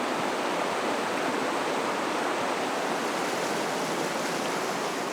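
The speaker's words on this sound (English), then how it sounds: "This is one of the tallest waterfalls in all of Canada." Takakkaw Falls, one of Canada's tallest waterfalls, in Yoho National Park, pours in a steady, loud, full roar of rushing water that holds unbroken throughout with no voices.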